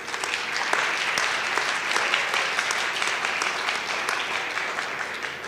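Audience applause at a World Food Day event honoring Meals on Wheels, a sustained dense clapping from a large crowd lasting several seconds with no talking.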